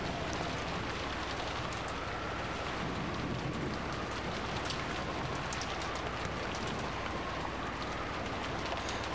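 Heavy rain pounds down steadily in the visual novel Umineko, a dense, even hiss of drops with scattered sharper ticks, constant and unbroken throughout with no voices.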